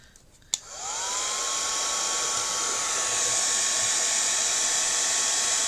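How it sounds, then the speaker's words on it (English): A heat gun blows hot air to dry paint on a wood slice, switching on with a click and then holding a steady, loud, even whoosh with a faint whine for several seconds, alone without talk. "let's give it a blast with a heat gun to make sure it's properly dry"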